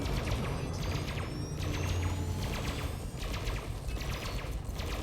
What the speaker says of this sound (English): Unleashing the power of the incendiary multi-cannons again.